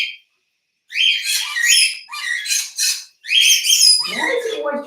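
A pet parrot squawks and screeches in loud, harsh bursts at close range, with short gaps between calls, breaking out indoors during a live stream.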